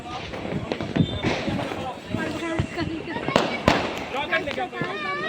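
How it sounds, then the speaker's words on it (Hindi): Diwali firecrackers crack and pop repeatedly in a noisy festive street, sharp bangs scattered among crowd chatter and whistling bursts, with loud shots near the middle and later on. "मुझे ये शोर करने वाले पटाखे बिल्कुल पसंद नहीं आते हैं"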